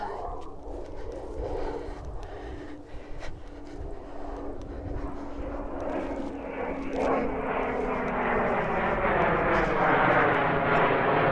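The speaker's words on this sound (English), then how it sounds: "And we've got planes going overhead." Fixed-wing aircraft flying overhead above farmland on a Lincolnshire Wolds estate, a steady low engine drone that swells gradually louder as it nears, continuous with no voices.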